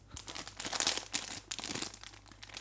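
A bag of pork scratchings is rattled and crunched close up, with loud crinkling packet noise and crisp crunches in bursts, and no talking.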